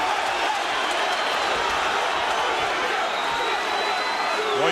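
A boxing arena crowd cheers and roars steadily throughout during a Roy Jones Jr. bout, a dense, loud wash of voices with no letup.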